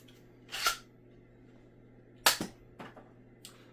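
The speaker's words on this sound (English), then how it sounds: "you pull the trigger to fire, and it shoots Mega" Nerf Corsair blaster firing Mega darts, with one sharp pop near the start and a second louder shot followed by a rattling click, then a softer click and a faint tap, each close and alone against quiet.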